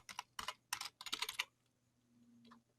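Quick bursts of typing on a computer keyboard, close and clear, several rapid clusters of key clicks over about a second and a half, then a faint low hum and one last soft tap.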